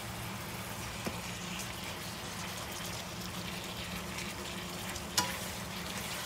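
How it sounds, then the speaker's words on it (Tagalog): Beef stirred in a hot pan with dark soy sauce: a steady, moderate sizzle of frying runs throughout, with a couple of faint utensil clicks. "Hahaluin natin para pare-pareho din ang kulay niyan"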